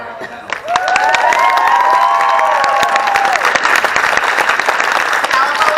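An audience at a VidCon 2018 community panel breaks into loud applause and cheering for the panelists, dense clapping with whoops and raised voices riding over it, sustained throughout.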